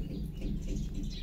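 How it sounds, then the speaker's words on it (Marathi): Brief soft chirping from a house sparrow in a home yard, faint against low background hum, with no talking. "लिओच्या अंगणातल्या चिमणीने घातली 3 अंडी"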